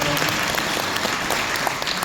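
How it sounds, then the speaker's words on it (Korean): Lecture audience at a patriotic humanities talk in Daegu claps in dense, continuous applause that fills the hall, loud and close throughout the short stretch. "다시 한번 박수 부탁드립니다"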